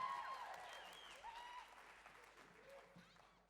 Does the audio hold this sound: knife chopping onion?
no